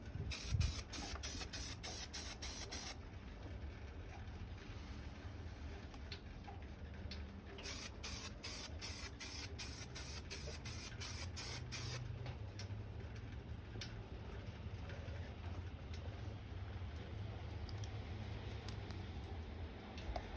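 A primer coat is spray painted onto a helmet, with steady close hissing from the spray that pulses in bursts, one long spell early on and another midway, over a constant background rush.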